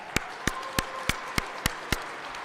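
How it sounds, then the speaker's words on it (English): At a basketball coach's press conference, a small group gives a light round of applause, slow, evenly spaced single claps standing out clearly over a quiet room tone. "We'll give you a little round of applause."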